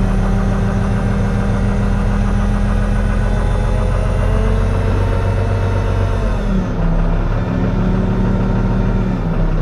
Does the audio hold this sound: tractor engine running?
yes